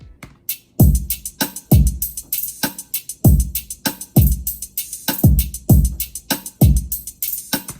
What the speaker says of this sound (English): So all the drums together should sound like this.